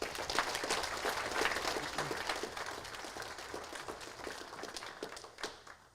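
An audience applauds at the indoor unveiling of the AR24 car: steady, dense clapping from a mid-sized crowd that holds evenly and then tapers slightly toward the end, with no voices over it.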